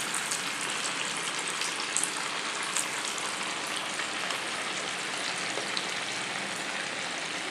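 Potato and poha snack pieces fry in hot oil, a steady dense crackle and bubbling hiss throughout, moderately quiet with no talking.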